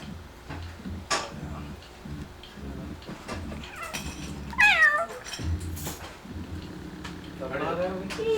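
A cat meows twice with drawn-out, wavering cries in a home in 1996. A steady ticking runs throughout, and people talk in the background.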